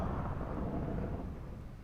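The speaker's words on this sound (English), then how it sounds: "So that's the thunder." A thunder attack effect from a Demon Slayer mod in Minecraft rumbles as a single deep, loud roll that slowly fades, with no voices.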